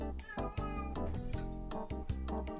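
A pet cat meows in a run of loud, close, drawn-out cries, one after another with short breaks between them, and no talking over them.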